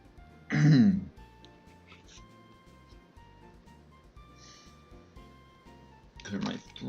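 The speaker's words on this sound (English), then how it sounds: "Clear my throat." A man clears his throat once, loud and close, then a quieter second clearing near the end, over soft looping music from a Pokémon Blaze Black 2 Redux game.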